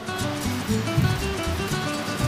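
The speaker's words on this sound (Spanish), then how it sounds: "Está colando el agua, ¿no?" Water pours and splashes as it drains out of a fishing net lifted from the water, a steady rushing wash with small gurgles, close by and with no talk over it.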